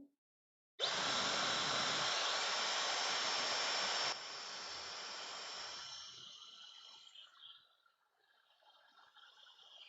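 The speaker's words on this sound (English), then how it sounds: "I think right now I can just use the hair dryer." A hair dryer switches on and blows loudly and steadily at close range, then drops to a lower, softer setting before fading toward quiet.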